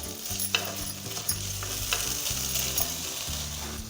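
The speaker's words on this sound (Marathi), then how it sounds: "आतां सुंगट फ्राय करुया." Prawns fry in a pan for a Goan prawns mole, giving a steady, close sizzle with a few scraping stirs and no talk.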